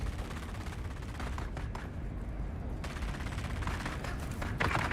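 Sustained gunfire in Dune Awakening, rapid overlapping bursts that rattle on almost without pause, briefly thinning in the middle before picking back up loudly.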